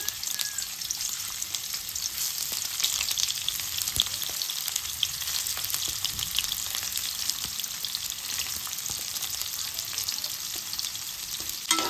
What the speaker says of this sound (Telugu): ఇప్పుడు మనము ఈ కాకరకాయలు వేసుకొని వేపుకోవాలి